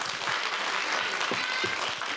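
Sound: audience cheering and applause

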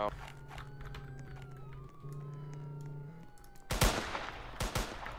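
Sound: gunshots in Roblox video game, deputy shooting

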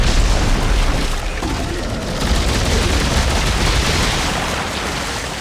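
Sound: rifle firing in video game Dead Space 3

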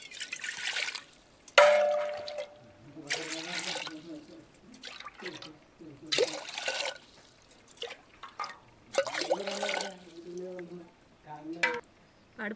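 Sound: pouring water into a pot for ginger tea

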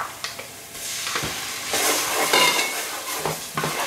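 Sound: stirring tomato paste into frying onions in pot

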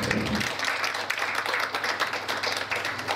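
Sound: audience applause

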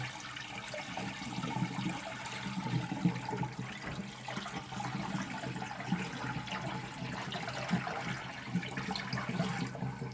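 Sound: dirty aquarium filter water being poured out

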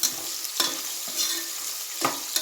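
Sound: stirring and roasting biryani ingredients in a pan

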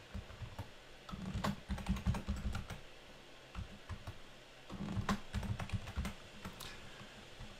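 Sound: computer keyboard typing column headers in Word

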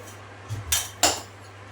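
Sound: washed dishes being put away

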